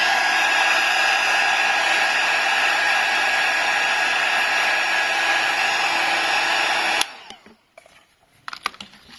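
A heat gun blowing hot air onto an iPhone screen, a loud, steady whooshing roar with a faint whine that stops abruptly, leaving a few soft clicks and handling noises.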